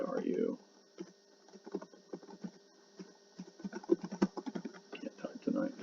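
Someone types on a computer keyboard, producing quiet, irregular bursts of key clicks close by, with a little talking at the start and end.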